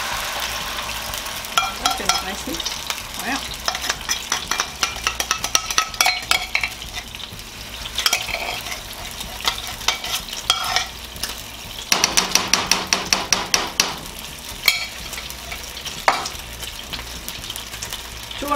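Food pops and crackles sharply in a hot pan, with repeated bursts of spattering and scraping stirring, loud and close.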